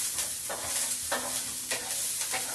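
Green onions and garlic stir-frying in a wok, a steady broadband sizzle with repeated scraping strokes of a spatula roughly every half second, close and loud, with no talking.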